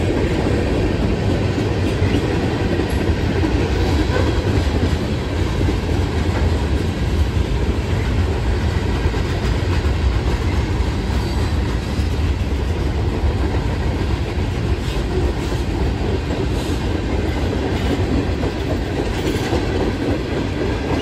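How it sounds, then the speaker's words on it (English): A freight train hauling loaded lumber cars rolls past at close range, a steady loud rumble with rhythmic clickety-clack of wheels over rail joints running the whole time and no voices. "Lumber cars and loaded lumber cars."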